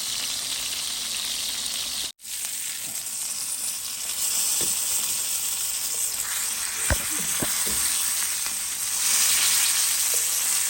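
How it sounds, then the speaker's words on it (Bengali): Rohu fish pieces frying in a hot pan, a steady close sizzle and hiss running throughout, broken once by a brief dropout and a few small pops and crackles near the end. "মাছগুলো ভেজে নিচ্ছি"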